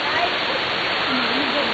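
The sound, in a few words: waterfall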